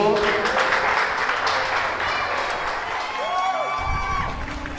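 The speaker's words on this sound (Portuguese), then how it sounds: "Você pode aplaudir o Senhor." A church congregation applauds during a sermon, a steady wash of clapping throughout, moderately loud, with faint voices and a brief musical tone underneath.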